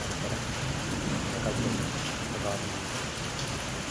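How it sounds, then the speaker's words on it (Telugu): Heavy rain pours down outdoors at a cancelled camping spot, a dense, even roar filling the whole stretch while a voice briefly speaks over it. "వర్షం అయితే చాలా దారుణంగా ఉంది"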